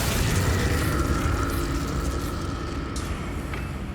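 Incendio fire spell cast in Hogwarts Legacy, a loud, continuous fiery roar and whoosh with booming low rumble that holds steady for a few seconds, with faint crackles near the end.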